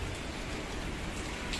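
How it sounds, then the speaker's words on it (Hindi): Steady rain falls on a flower garden with tulsi plants, a continuous close hiss of drops with no breaks and no voices. "बारिश अच्छा लग रहा है बारिश में बहुत"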